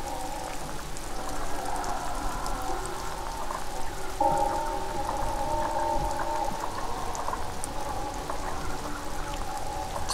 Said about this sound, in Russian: Чувствуете тяжелые капли дождя.